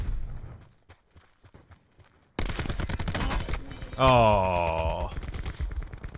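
Enemy gunfire in a shooter game: quiet sparse pops at first, then a sudden loud sustained burst of automatic fire, with a person exclaiming and talking over the shooting.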